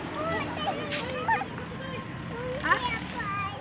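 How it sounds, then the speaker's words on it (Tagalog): A flock of birds, honking and calling like geese, keeps up steady overlapping cries outdoors while a child and other people talk over the noise. "Uy, ang daming ibon."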